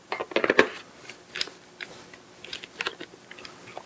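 Metal lens adapter ring being fitted between a Hasselblad CF lens and a Pentax 645 camera body, giving a quick cluster of sharp clicks and scrapes, then a few lighter taps and a final click, close up with no talking.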